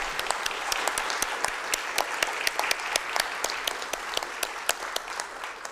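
A seated audience at a formal solemn session of a legislative assembly claps steadily, with crisp individual hand claps standing out clearly above the dense wash of applause. No one speaks.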